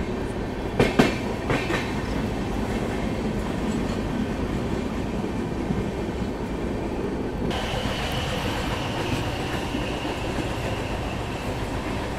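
Double decker train 12584 runs from Delhi to Lucknow with a steady, loud rolling rumble heard from on board and a few sharp clicks early on.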